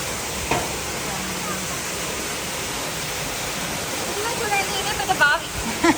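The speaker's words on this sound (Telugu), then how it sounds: "ఈ బావి కాదు పెద్ద స్విమ్మింగ్ పూల్ దాంట్లోకి అయితే ఎంత వాటర్ అయితే ఫిల్ చేస్తున్నారు" Water gushes steadily into a large, swimming-pool-sized storage tank on a farm in Saudi Arabia, a dense, continuous rushing roar that swells slightly toward the end, with faint voices in the background.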